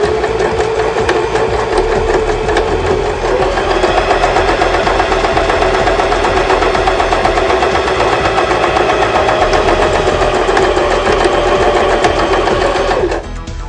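A Janome 2012 sewing machine stitches continuously in a loud, even, fast mechanical whir, sewing forward and back with the reverse lever, then stops abruptly at the end.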